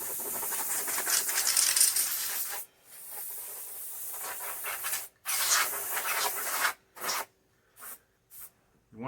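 Compressed air sprays dust off the outside of a PlayStation 5, several close hissing bursts, the first long and steady, then shorter spurts separated by brief silences.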